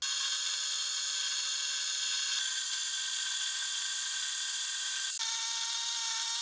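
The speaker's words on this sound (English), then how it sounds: "I'll machine in a step on each side of the round block" A lathe or milling machine cuts a step into a round steel block for the guide rails of a fly press, giving a steady high metallic whine with faint tonal ringing that runs unbroken and fairly quiet, with no talk.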